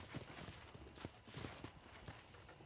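A horse gallops in the Western video game Red Dead Redemption, its hooves beating a steady, rhythmic clip-clop that stays fairly faint against a constant bed of background noise.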